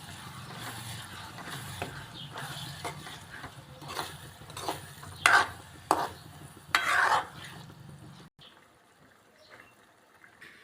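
Tomatoes being stirred into fried onions in oil for pav bhaji, a soft sizzle under several scraping strokes of a spoon against the pan, louder bursts midway before the sizzling fades to near quiet.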